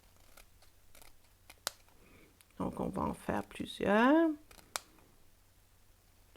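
Scissors make a few quick, close snips on thin strips of black paper in a craft setting, brief clicks among quiet handling noises, with someone speaking French between the cuts.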